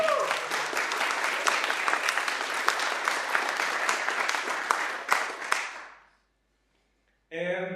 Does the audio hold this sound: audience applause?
yes